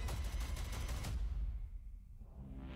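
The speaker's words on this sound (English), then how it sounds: "That's a huge cannon gun." A heavy burst of rapid cannon-gun fire in Call of Duty: Black Ops 6 Zombies booms and rumbles for about a second, then fades into a low, lingering echo.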